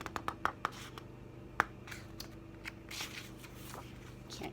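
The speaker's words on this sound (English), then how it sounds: "Can't get the page turned." A storybook page is handled and turned, with crisp paper rustles and a few sharp flicks and taps at the start, then softer scattered crinkles against a quiet room background.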